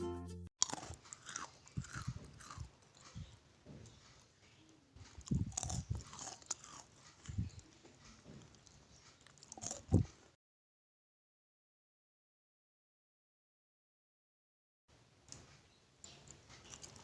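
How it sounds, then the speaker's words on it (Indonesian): Crunchy, savoury cheese sticks are bitten and chewed close to the microphone, with repeated crisp crunches for about ten seconds, a pause of silence, then more chewing. "Stik keju yang renyah dan gurih siap dihidangkan."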